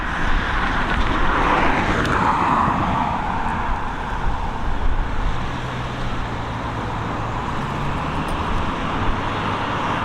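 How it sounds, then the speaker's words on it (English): A Ryanair Boeing 737 MAX arriving at Dublin Airport makes a loud, broad, steady jet roar that swells and holds, with some faint tonal whine beneath it. "a Boeing 737 MAX coming in from Basel"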